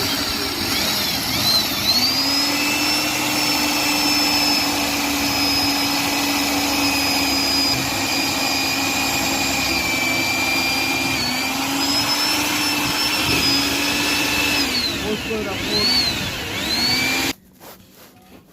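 A plumber's motor-driven machine runs in a steady, droning whine with a strong tonal hum that wavers slightly in pitch, then cuts off abruptly near the end.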